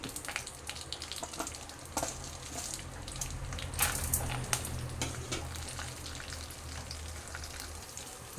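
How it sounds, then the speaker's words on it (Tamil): Lentils and pepper frying in a little oil in a pan on the stove for a tomato mint chutney, giving a faint, steady crackle with scattered small pops and stirring scrapes. "சட்டி அடுப்பில் வச்சுருக்கோம் கொஞ்சோண்டு எண்ணெய் சேர்க்குறோம் இந்த பருப்பை இதில் சேர்த்து மிளகு"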